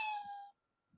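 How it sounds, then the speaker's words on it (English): A single short meow from a cat on a nearby fence, clear and tonal, cutting off abruptly and followed by a faint soft sound. "From a nearby fence, a cat meowed."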